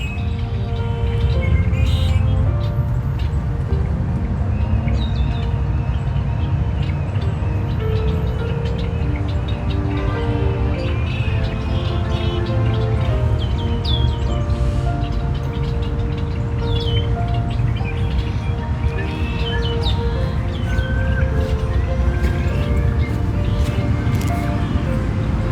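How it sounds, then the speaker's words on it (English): Faint outdoor birdsong gives scattered chirps and tweets over a steady rumble of distant traffic and a dense ambient bed, lasting throughout with no talking. "you can't hear the birds here very well"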